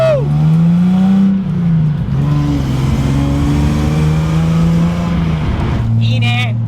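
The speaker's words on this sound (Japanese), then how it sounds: "エンジンしか聞こえない。" A Datsun 240Z (Fairlady Z S30) with a freshly repaired muffler runs close by, its engine giving a steady, fairly loud drone that shifts pitch slightly as it is revved and settles.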